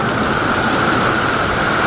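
Rain falls steadily as a thunderstorm begins, a dense, even hiss of drops that stays loud and unbroken throughout, with no voices.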